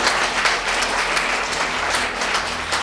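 A church congregation claps steadily together during a sermon, a dense, close burst of applause lasting a few seconds with no voices over it.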